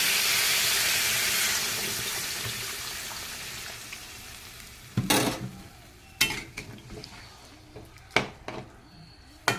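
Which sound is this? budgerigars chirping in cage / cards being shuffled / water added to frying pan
water added to frying pan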